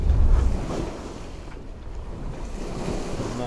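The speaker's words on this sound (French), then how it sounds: "Là on a une belle houle là" Long sea swell in the English Channel as heard aboard a sailboat, a low rushing wash of water with steady wind noise, rising and easing without any talk.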